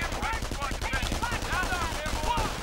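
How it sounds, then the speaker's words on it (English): Light machine gun fire from Grenadiers in a video game: dense, rapid crackling bursts rattle on without a break, loud and continuous, with a commentator talking over the shooting. "Grenadiers, of course, need to stand still for the LMG to fire"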